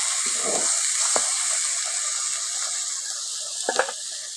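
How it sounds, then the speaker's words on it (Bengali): Chicken masala with chilli powder and coriander powder sautés in a pan, a steady close sizzling hiss broken by a few brief stirring scrapes near the start and end. "এখন ভালো করে একটু কষে নিচ্ছি।"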